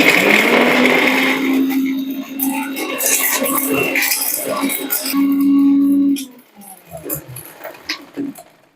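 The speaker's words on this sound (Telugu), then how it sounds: "సో దీన్ని ఇప్పుడు మనం మిక్సీ వేసుకుందాము" A kitchen mixer grinder blitzes dry ingredients for homemade tooth powder, including cinnamon and cloves, a loud steady motor whir running for about six seconds before cutting off, with quieter handling noises after.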